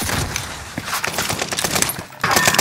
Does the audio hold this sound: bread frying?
no